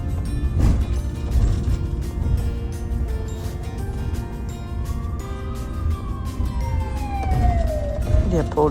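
Red police car siren wailing steadily over a busy city street, a rising and falling tone under constant traffic and mechanical noise, fairly close and loud.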